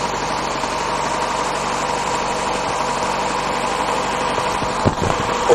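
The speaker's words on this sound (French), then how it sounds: "Le ralenti me paraît haut" A car engine idles high and steady at close range, a constant hum with low vibration, ending with a couple of brief knocks and a rise in noise.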